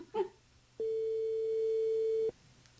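A steady electronic ringback tone of an outgoing telephone call, one long unbroken tone lasting about a second and a half, heard alone in a quiet background after a brief faint noise.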